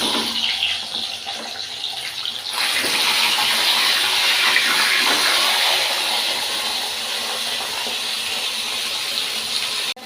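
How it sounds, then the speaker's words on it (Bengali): Fish heads fry in hot oil in a wok in a home kitchen, giving a loud, steady, hissing sizzle that swells noticeably a few seconds in and holds close and constant to the end, with no voices. "তেল গরম হয়ে গেছে, এবার আমি মাছের মাথাগুলো ছেড়ে দেবো।"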